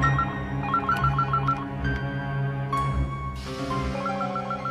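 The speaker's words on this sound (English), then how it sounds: "It's ringing." A telephone rings in a warbling electronic pattern, repeating its trilling bursts steadily at moderate volume against a continuous low background hum, with no speech over it.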